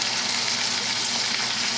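Sauce for sopita hisses and sputters loudly in a hot pan, a dense, unbroken sizzle.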